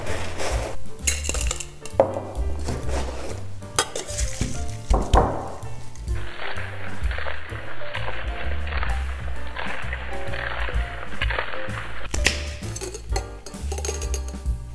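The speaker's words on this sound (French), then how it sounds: "On rajoute de la glace pilée et on va shaker tout ça." A cocktail shaker packed with crushed ice for an apricot-coconut tiki drink rattles in repeated rhythmic shakes, a close, busy clatter continuing for over ten seconds under background music.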